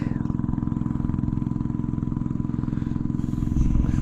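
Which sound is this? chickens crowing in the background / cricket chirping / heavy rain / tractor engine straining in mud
tractor engine straining in mud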